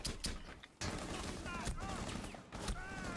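Gunfire in the tactical shooter Terrorist Hunt: sharp bursts of shots with ringing tails, repeated several times over a few seconds at moderate loudness.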